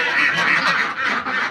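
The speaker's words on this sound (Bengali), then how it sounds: "এই যে আমার হাঁস" A domestic duck quacks close and loud in a continuous honking run of calls, with a brief dip before it resumes.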